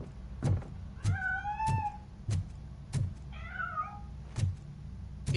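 A cat meows in the video game RoboCop Rogue City, two drawn-out meows between repeated dull thuds and mechanical clunks, fairly close, no talk.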